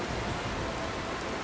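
Steady rain falls in the video game Dynasty Warriors 9, a dense, even hiss of drops with no breaks across the short stretch.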